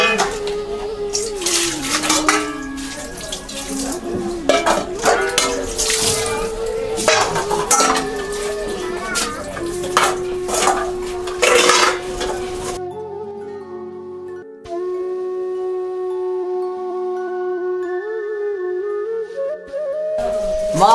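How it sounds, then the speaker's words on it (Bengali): Plates, dishes and pots clatter and clank in water during washing up, with dense, irregular metallic knocks and splashes for about thirteen seconds, followed by a quieter, sustained tonal passage. "এতক্ষণ লাগে একটা থালা বাসন মাজতে"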